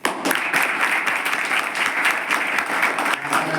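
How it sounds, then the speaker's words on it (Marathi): A crowd at an educational gathering claps steadily for a guest, a dense, continuous wash of many hands held at an even level from start to finish, with no voices standing out. "वाजपेयी सरांसाठी टाळ्या वाजवा."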